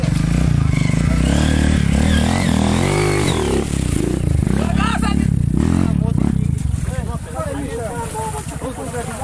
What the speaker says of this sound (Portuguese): Essa moto não apaga, é porque tá verdadeira, velho